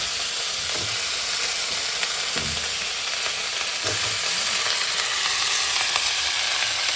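Hog plum chutney with jaggery cooking in a pot, a steady close sizzling hiss with a few soft stirring scrapes, no voices.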